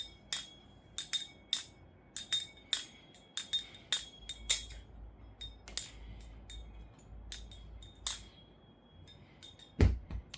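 Meco balisong knife lubed with carbon honey, flipped in quick bursts of bright metallic clicks and ringing chimes, close and clear, with a brief thump near the end.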